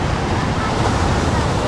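Sea waves wash onto San Fabian beach, mixed with strong wind buffeting the microphone in a loud, steady outdoor roar. Voices can be heard faintly underneath.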